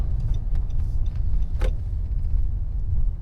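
A car rolls slowly through a busy car park, a steady low rumble of engine and tyres with a few faint clicks and rattles inside the cabin, no talking.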